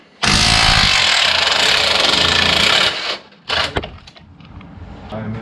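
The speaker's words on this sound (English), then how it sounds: "we're gonna get these bolts out." A loud power tool, likely an impact gun, buzzes continuously for about three seconds while removing bolts from a Maverick X3 A-arm in a garage, then follows with a few shorter bursts and clanks.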